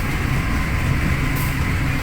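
Serayu passenger train at Karawang station in West Java, a steady loud low rumble and rolling noise with no clear talk.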